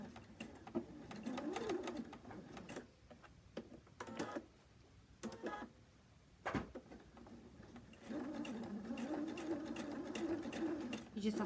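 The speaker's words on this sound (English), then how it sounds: "And we're going to sew just along the top edge where you've pinned." A sewing machine stitches pom-pom trim along the pinned top edge of a quilt, running in bursts with a steady mechanical whir and brief pauses, close by and under a person talking.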